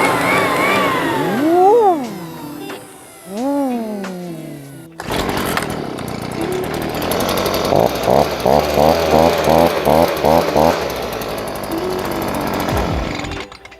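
A small two-stroke petrol leaf blower engine runs loud and close, its pitch rising and falling as the throttle is blipped repeatedly, with a brief pause near the middle.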